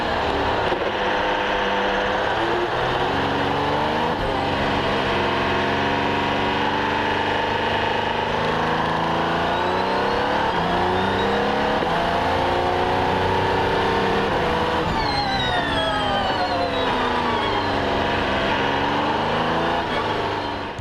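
Audi R18 race car engine accelerating hard down a straight, a loud, continuous roar whose pitch climbs and drops with rapid gear changes throughout.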